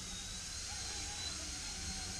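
A mini RC helicopter flies indoors inside a house, its small rotor and motor giving a steady, faint whine and whir that holds evenly throughout.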